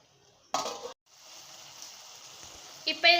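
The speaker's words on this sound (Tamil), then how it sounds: "இப்போ இது நல்லா கொதி வருது." A pot of okra curry simmers with a soft, steady bubbling hiss, broken by short, louder bursts of sound near the start and end.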